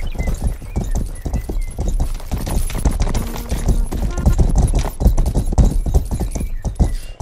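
Horse hooves clip-clop steadily in the medieval video game Rustler as a stolen horse is ridden, a loud continuous galloping rhythm with an occasional whinny and game music beneath.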